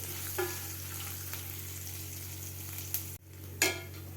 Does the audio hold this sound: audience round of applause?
no